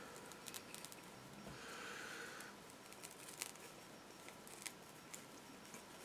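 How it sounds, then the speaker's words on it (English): Scissors cut through a sponge filter pad for a Marina i110 aquarium filter, giving faint, close snipping and crunching with soft squishy rustles, quiet and intermittent. "And this sponge is easier to cut through."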